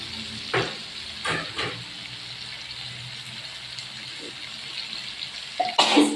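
Bitter gourd sizzles steadily in a large wok after chili is added, a constant moderate frying hiss with a few clatters of the spatula and a cough near the end.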